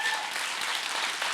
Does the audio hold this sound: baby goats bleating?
no